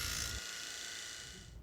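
A steady mechanical whirring buzz, like a ratchet or power driver tightening a bolt on a metal bracket for a Ranger pickup truck, running continuously up close before tapering off slightly.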